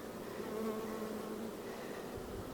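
Bees in a hive box, left in the bottom after a honey frame is installed, buzz as a steady, dense drone that fills the whole stretch at close range, with no talking.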